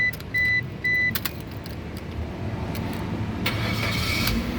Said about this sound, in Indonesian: sekarang kita coba nyalakan mobil itu ya